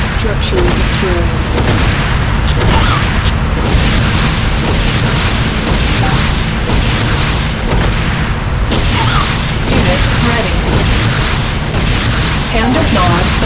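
A Nod structure exploding in the game Renegade: heavy booms and bursts pile up into a loud, continuous barrage of blasts with an announcer-style voice in the mix.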